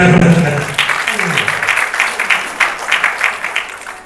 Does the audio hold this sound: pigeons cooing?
no